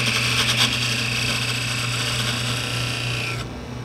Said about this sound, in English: And now I'll use a parting tool and my calipers to make a 3/8 inch diameter tenon.